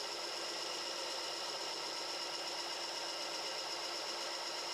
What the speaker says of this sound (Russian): И сверлю очень аккуратно, не спешу, без особого давления.